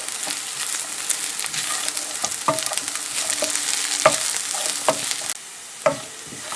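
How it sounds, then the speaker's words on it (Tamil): Chopped onion and green chilli sauté in an oiled pan for a shark fish curry, a steady soft sizzle with intermittent scraping and clinks of a spoon stirring, close and unaccompanied by speech. "அதையும் போட்டு வதக்க விடுவோம்"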